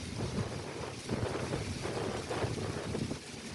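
Strong swirling wind roars and buffets the microphone in continuous gusts, with no voices present.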